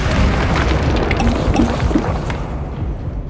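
A sustained, rumbling Confringo spell explosion from the Hogwarts Legacy game, loud and dense with a broad roar and faint mechanical crackles, fading slightly toward the end, with no voices over it.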